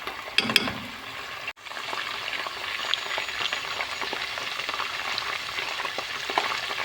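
Pilaf ingredients with tomato paste, salt and black pepper are roasted and stirred in a pan, a soft steady sizzle with a brief sharp clatter near the start and light scraping strokes, no talking.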